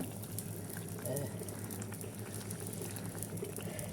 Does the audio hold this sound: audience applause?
no